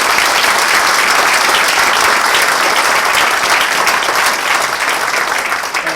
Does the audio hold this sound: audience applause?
yes